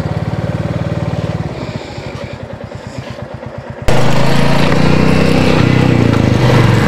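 A motorcycle on a ride from Siliguri to Gangtok, stopped near the Rangpo taxi stand, idles with a low pulsing engine rumble. Its revs then jump abruptly to a louder, steady drone that stays close to the listener.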